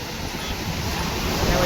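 Floodwater of the swollen Godavari river rushing fast, a steady loud broadband roar that builds slightly toward the end, with wind buffeting the microphone.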